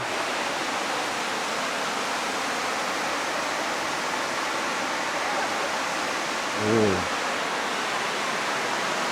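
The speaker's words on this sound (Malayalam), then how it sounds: "നല്ല സൗണ്ട് ഉണ്ടാവും വെള്ളത്തിന്റെ" A waterfall in Armenia gives off a constant broad rushing roar, loud and steady throughout, with a brief faint voice-like sound rising near the end.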